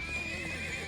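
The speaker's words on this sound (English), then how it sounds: "Thoroughbred war horses from the Bardias family's own stables." A thoroughbred war horse in the video game Trails of Cold Steel IV gives a single loud, close whinny, with faint hoof clip-clop and a steady game soundtrack underneath.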